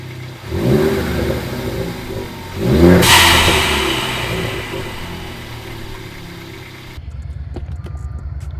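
A Ford Focus ST turbo engine with a Turbosmart blow-off valve and sound symposer delete revs up twice in quick bursts, rising and falling close by, then settles into a steady idle rumble.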